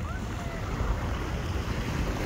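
Strong wind buffets the microphone on Blackpool beach, with surf rolling in under a constant low roar and no voices.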